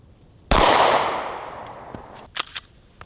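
A single sharp gunshot from .45 ACP ball ammunition fired at body armor cracks out loud, and its echo fades over a second or two. A few faint clicks and knocks follow.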